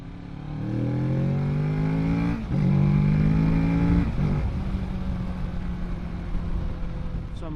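A Kawasaki Z650 motorcycle engine, still on its stock exhaust, revs up in two rising bursts close by, each dropping back to a steady idle.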